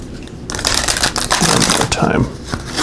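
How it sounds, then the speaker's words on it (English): A deck of tarot cards is shuffled by hand for a spring equinox card reading, giving a dense, continuous riffling and rustling that runs close and fairly loud for most of the stretch after a quiet start. "So let's give these a shuffle and we'll see what we're going to start off with here."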